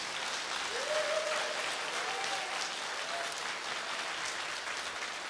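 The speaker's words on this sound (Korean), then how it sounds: "그럼 영광의 박수 한번 해봐요 또." A congregation applauds at a Korean prayer service, with a few brief voices calling out near the start. The clapping is steady, moderately distant and fairly quiet.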